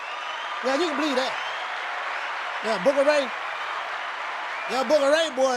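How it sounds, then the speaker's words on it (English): A round of applause forms a steady wash of clapping that runs the whole time, while voices talk and cheer over it. "Let's give everybody a round of applause."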